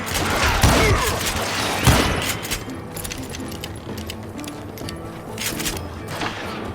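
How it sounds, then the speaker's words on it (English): Gunfire in Call of Juarez: Gunslinger comes as several loud, sharp shots, two prominent ones early, followed by scattered crackling reports and metallic clatter at moderate distance. "Keep shooting, I don't mind."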